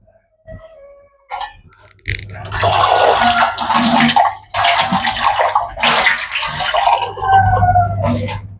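Water gushes from a kitchen tap to fill a glass, arriving in several loud, close bursts of splashing flow with brief pauses and faint clinks between them.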